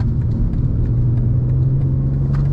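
A 2024 Audi RS3 engine holds a steady, close droning rumble through a corner, an even low hum with no talk over it.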